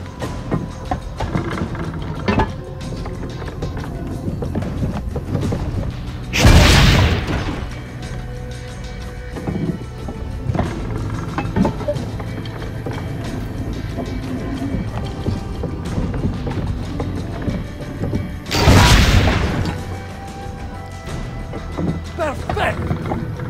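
Cannon fire in Assassin's Creed Brotherhood: two loud, broad booming blasts about twelve seconds apart over a steady game ambience with background sound effects.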